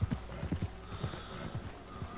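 Horse hooves clip-clop in a video game, a quick, faint, rhythmic patter of hoofbeats repeating steadily at close range over a low background hum.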